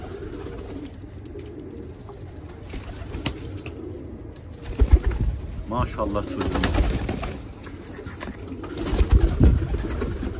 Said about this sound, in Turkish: Kuşlarımız da burada, karabaşlarımız.